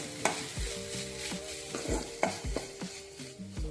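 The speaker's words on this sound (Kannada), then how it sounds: "ಇವನ್ನೆಲ್ಲನೂ ಸ್ವಲ್ಪ ಚಂದಮೇ ಫ್ರೈ ಮಾಡ್ಕೊಳ್ಳೋಣ್ರಿ." Vegetables stir-fried with red chilli sauce in a pan for veg manchow soup: a steady sizzle broken by repeated rhythmic spatula scrapes and knocks, fairly close, with faint background music underneath.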